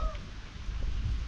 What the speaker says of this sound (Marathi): कॅट पण आहे